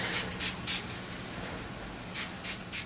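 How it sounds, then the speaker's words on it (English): Short hissing bursts from an aerosol spray during a diamond and gemstone therapy session, several quick puffs in a row with a pause and then two more, close and fairly soft against a quiet room. "I'm applying some spray."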